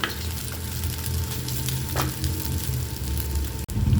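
Bottle gourd muthiya dumplings frying in masala in a pan, a steady close sizzle with soft crackle throughout, occasionally stirred, no voices.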